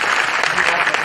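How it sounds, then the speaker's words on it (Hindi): Audience at a product testimonial event clapping loudly and steadily, a dense burst of applause filling the whole moment. "मैं चाहूँगा उनके लिए भी जोरदार ताली बजाएं।"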